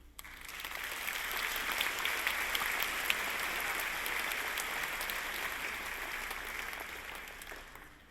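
Sustained applause from a faculty convocation audience for a first-time speaker, a dense, steady wash of many hands clapping that holds for several seconds before tapering off at the end.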